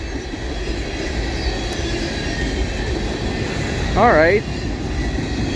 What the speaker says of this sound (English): BN boxcar.